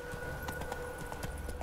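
Horse hooves clip-clop in a steady, even rhythm in The Witcher 3: Wild Hunt, the soft repeated clops trotting along over a quiet background hum.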